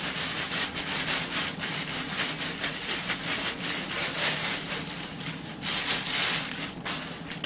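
Hands rummaging through a bag of loose screws from a wireless speaker, giving a continuous close rustling and scraping with faint metallic rattles throughout.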